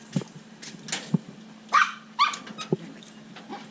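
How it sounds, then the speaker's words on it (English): A small dog on a street in Hanoi barks and yips in short sharp bursts, a few single barks then quick higher yelps, close and fairly loud against faint background noise. "Little dog. It's not gonna bite me."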